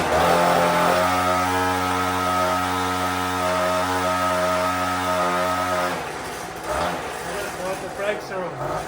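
A small engine drives a homemade rail cart, buzzing steadily and loudly with a strong droning tone for about six seconds before cutting out. Someone speaks over the rougher, uneven sound that follows.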